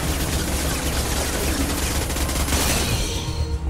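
Sustained, loud gunfire from a weapon in Mass Effect 2 on Insanity difficulty, a dense volley of rapid shots rolling continuously for several seconds with heavy low rumble and no talk over it.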